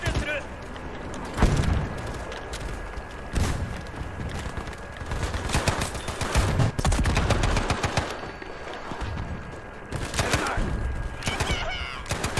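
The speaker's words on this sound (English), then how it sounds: "M3 grease gun." M3 grease gun firing in the World War II shooter Battlefield V, bursts of automatic fire mixed with explosions and other battle noise across the whole stretch, with someone talking over it.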